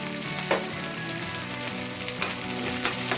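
Shallots, curry leaves and lengthwise-sliced green chillies fry in hot oil with a steady, dense sizzle. A few sharper crackles and pops rise from the bubbling backdrop.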